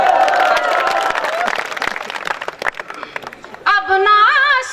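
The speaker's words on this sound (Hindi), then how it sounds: "अब आपने तालियां बजाई हैं" Audience applause at a night Hindi poetry recital, a crowd clapping loudly and then thinning out, with a voice speaking over it before the clapping fades.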